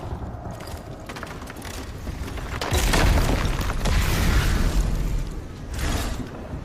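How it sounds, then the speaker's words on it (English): Giant booming footsteps from the video game Tales of Iron 2, heavy low thuds rising into a rumbling surge midway, with creaking mechanical texture around them. "The booming footsteps that woke him this time were nothing like those of his father"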